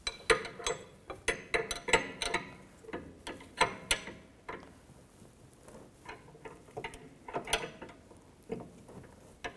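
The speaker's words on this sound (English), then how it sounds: "use a 18mm socket to tighten the nut down" A socket wrench with an 18mm socket ratchets a nut down on a front sway bar link of a 2013–19 Nissan Sentra, giving bursts of quick, close metallic clicks separated by short pauses.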